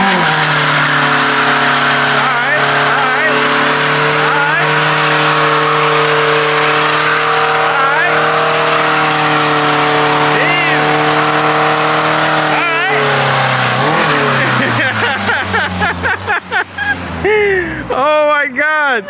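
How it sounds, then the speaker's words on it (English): An EG hatch with 39K miles does a burnout, its engine held at a loud, steady high rev before tires chirp and squeal in quick bursts near the end, with voices underneath. "that shit did a burnout"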